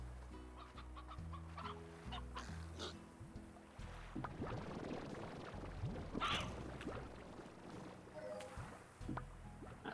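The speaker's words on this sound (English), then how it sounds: "That sounds like a bad day for the chicken." Chickens cluck in the game Slime Rancher, short busy clucks and squawks scattered over a low droning music bed, moderately loud with a few sharp bursts.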